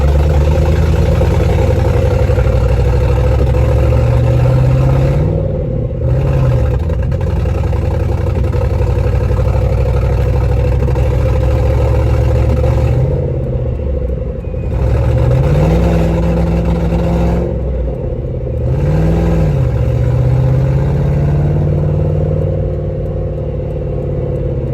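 Car engine running with fuel-starvation issues, a loud continuous rough drone with periodic dips and surges in pitch, as if stumbling and revving back up.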